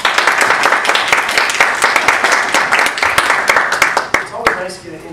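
Audience clapping after a speaker's introduction at a talk on genocide and military law, a dense steady burst of many hands that thins out and fades in the last second.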